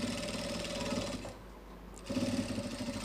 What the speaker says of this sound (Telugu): కింద అనేది ఒక టెన్షన్ కుట్టు వేసేసేయండి.